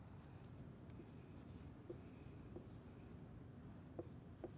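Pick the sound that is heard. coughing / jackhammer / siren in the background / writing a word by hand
writing a word by hand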